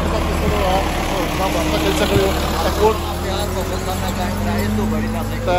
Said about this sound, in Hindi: ट्रैक्टर नाल आई गया तो ट्रैक्टर की आवाज़